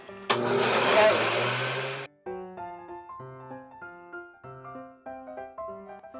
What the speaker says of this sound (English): you're going to add them to your blender. We'll be pureeing them